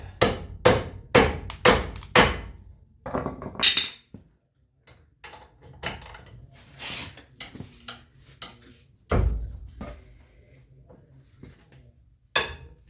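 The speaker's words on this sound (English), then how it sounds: "We're going to have to tap that socket on there." Repeated hammer strikes tapping a socket onto a Dana 60 front axle on a rusty salt-belt truck, a fast burst of loud, sharp metallic blows, then scattered lighter knocks and clinks, with another hard strike near the end.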